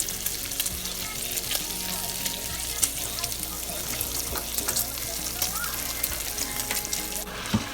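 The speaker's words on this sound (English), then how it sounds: "Getting this bacon to fry." Bacon fries in a pan with a steady, close crackle and sizzle in a home kitchen, broken by occasional sharper pops and clinks, with no talking.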